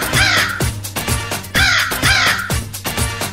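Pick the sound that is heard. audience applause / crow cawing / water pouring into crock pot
crow cawing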